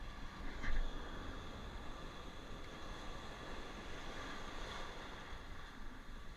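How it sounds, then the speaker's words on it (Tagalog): Steady broadband rush of large ocean waves and wind, a continuous roar of surf with a slightly louder surge near the start and no voices. "lalaki ng alon"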